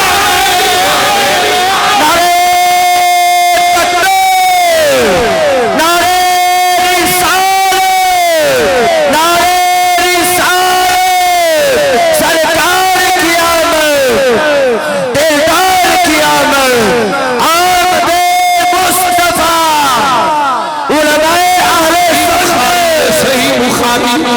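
A large crowd at a religious gathering chanting slogans in loud unison, rhythmic call-and-response bursts repeating every few seconds, dense and close with voices swelling and breaking between chants.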